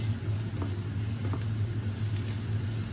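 Onions frying in a pan give off a steady low sizzle that runs the whole time, with faint clicks on top and no one talking.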